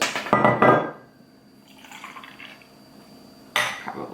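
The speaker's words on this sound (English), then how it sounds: "I can measure in a shot glass." Alcohol poured into a shot glass in two short bursts, a quick close splash of liquid at the start and another near the end, with a quiet pause between.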